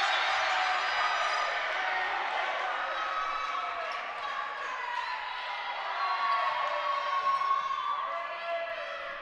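A crowd in a gym at a senior boys' AA volleyball championship roars and cheers continuously, loud and close, with whoops and shouts rising and falling across the whole stretch.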